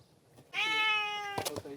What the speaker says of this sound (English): Here's the talking cat.